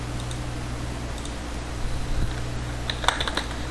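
Fingers tap at a computer keyboard in short, soft clusters of keystrokes over a steady low machine hum, faint and close, with no talking.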